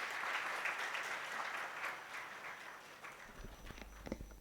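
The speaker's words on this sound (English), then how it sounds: "please give him a big round of applause." An audience at an innovation conference's inaugural session in Ahmedabad claps steadily in a sustained round of applause welcoming a chief guest, fading toward the end as a few louder claps and footsteps come through.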